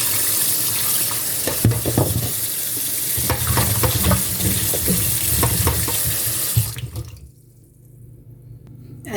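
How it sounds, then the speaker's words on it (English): Water from a kitchen tap runs steadily into a sink while peeled ginger is rinsed under it, with splashing and clunks of handling before the flow cuts off near the end. "Now I'm going to wash my ginger."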